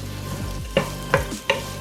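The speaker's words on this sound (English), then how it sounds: "So we're just gonna saute this for a couple of minutes." Carrots sautéing in a pan as the first vegetables for Filipino bihon rice noodles, with a steady low sizzle under three sharp utensil clinks and scrapes from stirring, spaced about a third of a second apart.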